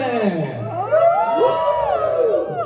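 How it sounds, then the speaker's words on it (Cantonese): A party crowd cheers and whoops, several voices rising in overlapping shouts and sliding cries, fairly close and lively. "嗱呢個歡呼啦"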